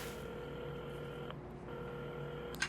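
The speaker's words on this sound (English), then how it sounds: "while at the counter, Carmen had started dialing the phone" A telephone is dialed in the video game Assemble With Care, a steady electronic tone with a few faint key blips and a short break in the middle, quiet and alone.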